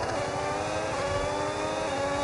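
An F1 race car engine in the video game F1 26 on PS5 at the Madrid GP drones continuously at a steady high pitch, a loud, sustained whine with no talk over it.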